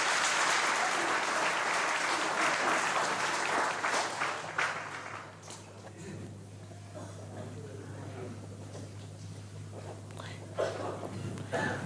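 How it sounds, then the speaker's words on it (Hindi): Clapping from a crowd gathered at a religious darbar (Pandokhar Sarkar), dense and steady at first and then thinning into scattered claps over a low background hum, with faint voices in the room. "ताली बजाकर किसी पंडोकर सरकार का जय घोष"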